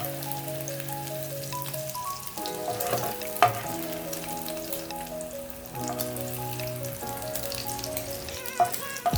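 Onions and green chilies frying in a pan, a steady, loud sizzle with crackling pops throughout and occasional sharp clicks of utensils.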